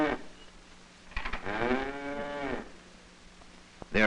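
Dairy cows low inside a 1943 farm barn, one long drawn-out moo rising and falling at close range, framed by brief shuffling knocks and quiet gaps, with no voices.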